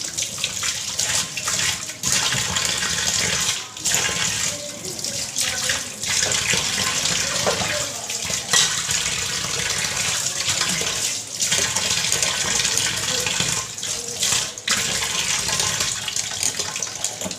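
Tap water runs steadily into a wash basin while it is scrubbed, a loud continuous splashing rush with brief breaks and scrubbing pauses, no talk.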